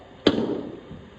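A cricket bat strikes a ball fed from a bowling machine in a practice session, giving a single sharp, close crack followed by a brief fading ring.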